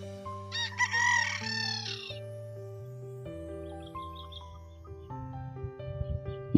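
A gamecock stag on a game farm lets out a loud, near crow about a second long, then other birds crow and chirp more faintly in the distance over soft background music.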